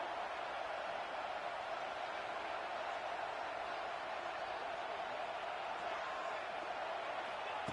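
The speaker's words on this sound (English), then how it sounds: "This crowd is trying to inspire this defense to make a big red zone stop." A steady, loud stadium crowd roar in the video game College Football 25 fills the whole stretch during a red zone defensive stand, a dense wash of cheering and noise with no clear pauses.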